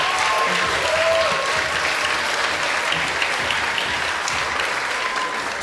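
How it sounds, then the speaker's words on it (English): An awards-event audience gives a round of applause, a steady wash of many hands clapping at even loudness throughout, with a few faint voices underneath. "So let's give them a round of applause."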